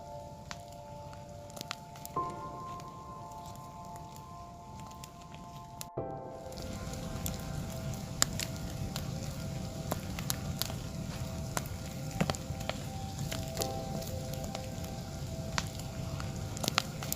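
A tree set burning from the inside by a lightning strike, a steady crackling, sizzling fire with scattered pops and snaps throughout, close and continuous, with a sharp break partway through where the sound suddenly grows fuller.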